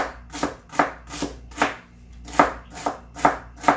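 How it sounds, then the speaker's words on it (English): A knife chops through a single-serve lentil loaf on a cutting board, giving about ten steady, evenly spaced thuds at close range with no talking. "I'm just going to run my knife straight across these"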